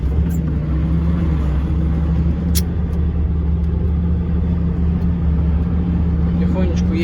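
A DAF dump truck rolls slowly through a forest, its engine a steady loud low rumble with a constant drone inside the cab, while someone talks over it.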